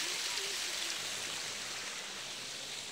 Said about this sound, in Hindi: यहाँ पे देखो ऑटोमेटिक पानी आ रहा है, ये नीचे देख सकते हो ऊपर से पानी आ रहा है एकदम ऑटोमेटिक